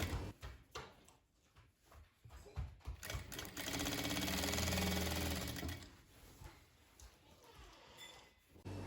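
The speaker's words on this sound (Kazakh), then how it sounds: "осылай түзеу тігіспен ішкі жағынан тігіп шығатын боламын" Sewing machine stitching a jeans skirt made from old trousers, a close, continuous mechanical whir with rapid needle clatter that speeds up into a steady run, then slows and stops amid fabric handling.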